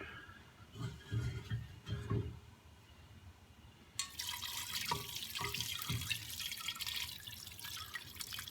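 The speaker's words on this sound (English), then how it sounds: "I'm going to use a sieve and transfer that juice into this soup" Dark reddish-purple juice pours through a sieve into a pot of pork pozole: a few soft drips and knocks at first, then a steady, close splashing stream that runs to the end.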